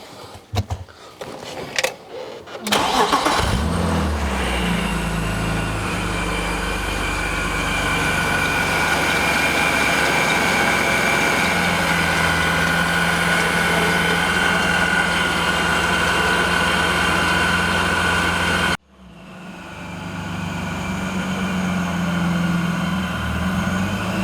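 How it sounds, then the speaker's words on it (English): A car with a second muffler added to its exhaust starts up after a few clicks and settles into a steady low idle. The engine cuts briefly near the end, then the idle resumes. "I think the exhaust tone in the car is super nice."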